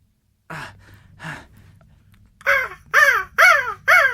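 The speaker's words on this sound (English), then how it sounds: "A seagull." A seagull calls: two softer squawks are followed by four loud, closer, evenly spaced harsh cries.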